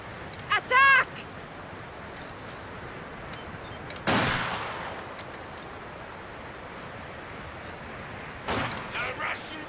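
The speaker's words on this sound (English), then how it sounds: "The Russians are shooting back." Gunfire in Company of Heroes 2 from Russian troops firing back across a battlefield: a loud burst early on, a heavier blast that trails off, and a later clatter of shots, all over a constant hiss of ambient noise, with a brief voice callout.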